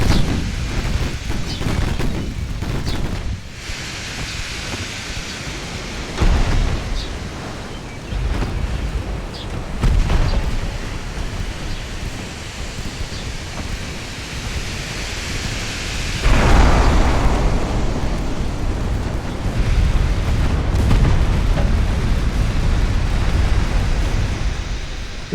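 Naval guns fire in Ultimate Admiral Dreadnoughts, including many 2-inch guns: repeated deep booms rolling like thunder over a constant sea-wash rumble, with a heavier, sustained blast past the midpoint.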